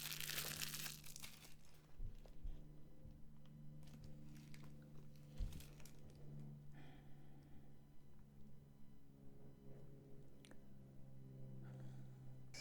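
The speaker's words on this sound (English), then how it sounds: "I'll get that plastic out of the way." Plastic wrapping being crinkled and peeled off a Star Trek The Next Generation tarot card deck, close and soft, with a busy burst of crinkling at first, then scattered rustles and small crackles over a low steady hum.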